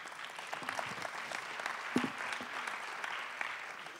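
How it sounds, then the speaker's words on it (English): Faint, distant audience applause at a conference keynote session, steady scattered clapping from a room of listeners, with one sharper nearby clap standing out midway. "Please, an applause for them."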